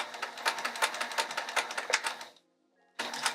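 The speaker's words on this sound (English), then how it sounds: "My bobbin is misbehaving again. I can hear it." A sewing machine with a misbehaving bobbin runs in a fast, rattling stitch rhythm, stops briefly with a short mechanical squeak, then starts up again. The sound is close and fairly loud.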